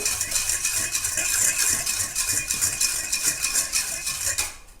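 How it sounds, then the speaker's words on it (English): A utensil stirs a homogeneous gel mixture in a container, quick rhythmic scraping and clinking strokes repeating close up for several seconds. "just give that a stir and you'll see a homogeneous gel is starting to form"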